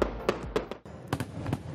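Fireworks at the annual Rhine in Flames festival over the Rhine, a rapid run of sharp crackling bursts and pops, loud and fairly near, with a brief gap midway.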